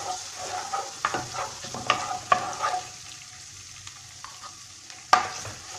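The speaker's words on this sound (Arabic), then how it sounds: "نقلي الثوم تاعي، نزيد له حوالي نص مغرفه تاع طوماطيش مصبره" Garlic and canned tomato fry in a pan under a steady soft sizzle, while a utensil scrapes and stirs in scattered strokes, with one sharp knock near the end.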